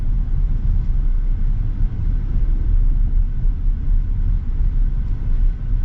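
Turbocharged 4-cylinder engine of a 2025 GMC Sierra 1500 Pro pickup heard from inside while driving, a steady low rumble with road noise and no distinct revs or talk.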